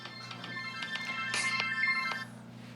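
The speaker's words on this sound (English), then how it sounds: "Oh, there's my phone." A mobile phone plays a melodic ringtone at moderate volume over a constant low hum, with no talking during the ringing.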